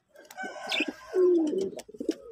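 Pigeons coo at a nest holding eggs, soft throaty calls repeating in a close, quiet sequence.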